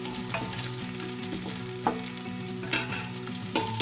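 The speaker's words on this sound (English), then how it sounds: "you add your garlic. You want to add the garlic last because you don't want it to burn." Chopped garlic frying in a pan for a sweet and sour sauce, a soft steady sizzle with a few distinct clinks of a utensil stirring against the pan.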